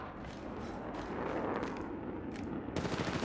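Gunshots in Apex Legends, dense rattling fire blended with a busy game soundscape, fairly quiet overall, with a sharper, brighter burst near the end.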